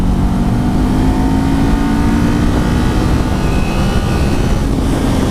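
A Kawasaki Z400 motorcycle engine revs hard after a double downshift and a roll of the throttle, a loud close whine climbing in pitch as it accelerates, with no talking.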